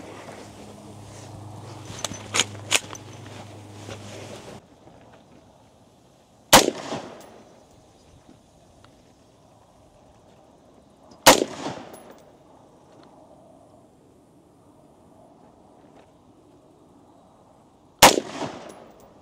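XK68 blaster fired at a target at about 25 yards: three single sharp cracks spaced several seconds apart, each fading with a short ringing tail into quiet, preceded by a few faint clicks and a low hum.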